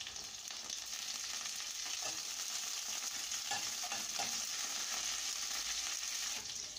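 Fennel seeds, slit green chilies and curry leaves fry in hot oil for a vegetarian salna, giving a steady close sizzle with faint stirring scrapes and no voices.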